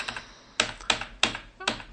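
Clacking computer keyboard keystrokes, four distinct sharp taps spaced about a third of a second apart after a few lighter clicks, close and crisp with no talk.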